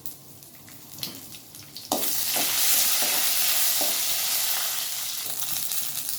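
Dried red chillies, chana dal, cumin and mustard seeds hit hot oil for a tempering, bursting into a loud, steady sizzle after a few soft stirring clinks.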